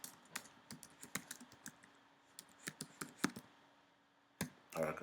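Keys clacking on a computer keyboard while HTML is typed into an editor, with irregular bursts of close, crisp taps separated by brief pauses and no talk over them.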